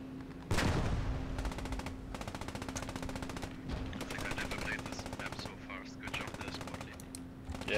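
Gunfire in the World War II shooter Post Scriptum, during an attack on St Mere Eglise, opens with a loud close shot followed by continuous rattling automatic fire and distant shots, with a faint low voice underneath.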